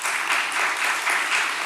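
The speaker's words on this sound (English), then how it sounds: "I guess that means they liked it, guys, with that clap." An audience at a business event about working with the City of Atlanta breaks into applause, a short dense burst of clapping that stays fairly even throughout.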